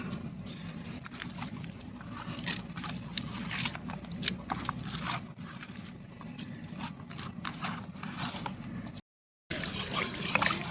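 Water sloshing and splashing steadily with scattered clinks and rubbing sounds as chicken pieces are rinsed by hand in a basin, with a brief gap near the end.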